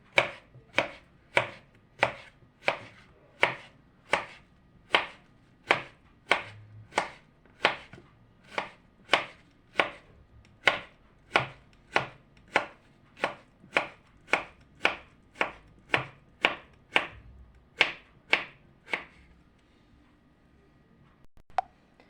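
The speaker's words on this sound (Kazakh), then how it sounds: "Осылай жұқалап қиярымызды турап аламыз." A knife thinly slices cucumber on a board, about thirty crisp, evenly spaced chops in a steady rhythm, close and distinct, tapering off near the end.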